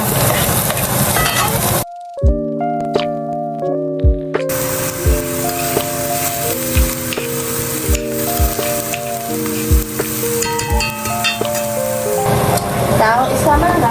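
Onion and garlic sizzle in a hot pan for a stir-fry of beans and tofu, a steady loud frying hiss throughout with recurring spatula scrapes, under background music with sustained tones.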